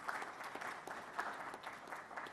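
An audience at an auto industry panel event on hybrid and electric vehicles claps steadily, a dense, even patter of many hands without pause, moderately distant in a hall.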